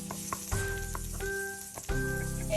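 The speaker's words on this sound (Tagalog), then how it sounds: "So sunod natin ilagay ang ating onion kasi mainit na ayon." Onion sautéing in hot oil, a close, continuous sizzle with crackling bursts and stirring clatter, with no voices.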